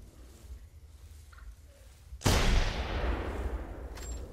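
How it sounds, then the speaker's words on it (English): A single sharp gunshot rings out partway through TheHunter: Primal, a loud crack followed by a long, rolling reverberant tail over a quiet outdoor game ambience. "He's shooting at them."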